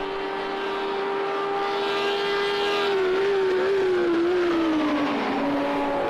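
GT3 race cars on track in a sim racing game, with an Audi in the pack, engine tone holding steady and loud, then wavering and dipping in pitch as a car lifts and shifts near the end.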